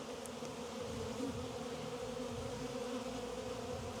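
Honey bees buzzing during a spring inspection of DIY insulated condensing hives, a steady continuous drone of many bees close by, with no voices.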